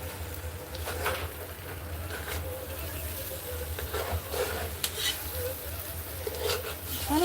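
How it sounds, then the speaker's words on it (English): Corned beef hash crisping in a pan, with a steady low sizzle under repeated scraping and stirring strokes of a utensil, fairly quiet and close throughout. "continue like this until the corned beef is warmed up, and ideally you want to get a nice like crisp on it."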